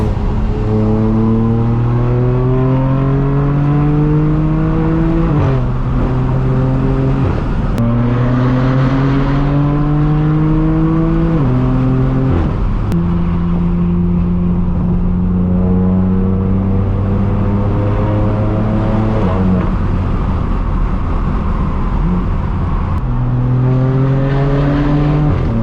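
A straight-piped BMW M4 F82 blasts its loud exhaust while driving, revving up through repeated rising pulls with sharp drops at each gear shift, close and aggressive throughout.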